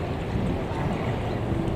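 Large boats motor along a crowded river, a dense wash of engine drone mixed with water and wind noise, loud and unbroken throughout.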